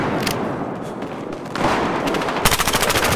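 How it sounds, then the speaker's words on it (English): Submachine gun fire in the Battlefield Hardline multiplayer video game, heard as continuous gunfire. A sharp, rapid, close burst breaks out near the end, and no one speaks over it. "I can't do anything with this submachine gun from far away."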